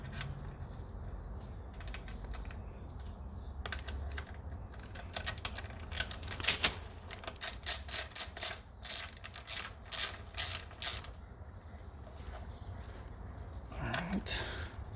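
An 8mm hex bit driving a thread-locked bolt into the swing arm of a Triumph Street Triple 765, heard as a run of quick close ratcheting clicks in bursts over a quiet workshop background.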